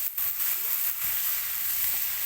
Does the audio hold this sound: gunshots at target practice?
no